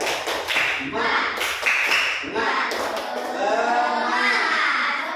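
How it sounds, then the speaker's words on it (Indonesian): A group of children in an Islamic religious studies classroom does a rhythmic clapping cheer of sharp, patterned hand claps, loud and close, mixed with shouting voices. "kita tepuk semangat dulu ya, tepuk semangat"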